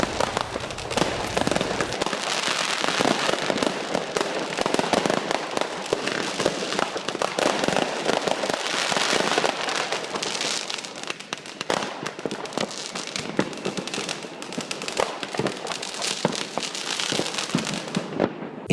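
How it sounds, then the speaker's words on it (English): Fireworks set off on a lawn directly below a window at a New Year's Eve party, a dense, continuous barrage of crackling bursts and pops heard from above, loud and steady for the whole stretch. "Right outside our window, immediately below us on the lawn, were people setting off fireworks."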